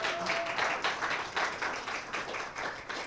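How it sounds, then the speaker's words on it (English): Applause from a lecture audience at the University of Denver, steady dense clapping that swells in waves for a few seconds with no talking over it. "So a round of applause."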